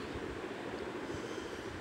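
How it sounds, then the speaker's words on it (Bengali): A small zoo ride train rolls along its track, giving a continuous low rumble of wheels and cars that stays fairly faint and even, with no talk. "তো এই যে ট্রেন এখন ঘুরবে"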